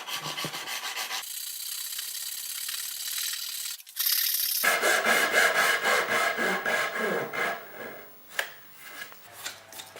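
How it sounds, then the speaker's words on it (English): A hand saw cuts dovetail tails in a wooden board for a chest, giving rhythmic rasping back-and-forth strokes close up, with a short pause before the sawing resumes and slows toward the end. "The tails are now cut using the opposite side of the guide."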